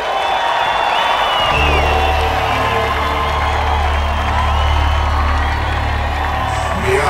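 Audience applauding and cheering for the band, a dense, loud crowd roar with whoops, joined after a moment by a deep sustained low drone beneath the cheering.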